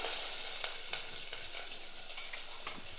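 Steady, crackling sizzle of chopped onion frying in hot oil, with soft scraping stirs now and then; no voices.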